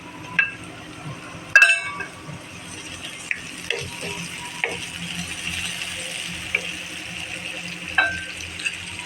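Pointed gourd frying in a pan with garlic and shrimp, a steady low sizzle running throughout, broken by a few clinks and stirring scrapes against the pan, with no talking.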